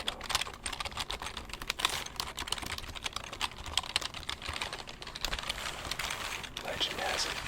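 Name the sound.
typing on a computer keyboard like a guitar solo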